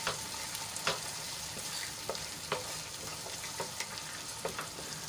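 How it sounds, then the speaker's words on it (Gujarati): Chopped tomato sautéing with onion in a pan, a steady hissing sizzle with scattered pops and occasional spatula scrapes, close and unbroken. "તો એમાં એક નાનું કાપેલું ટમેટું એડ કરી લઈશું ટમેટું આપણું સોફ્ટ થાય ત્યાં સુધી એને સાંતળી લઈશું"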